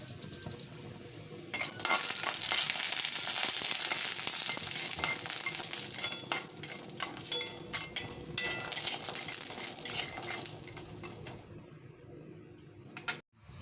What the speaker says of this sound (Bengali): তেল দিয়ে বড়িটাকে ভেজে নেব ভালো করে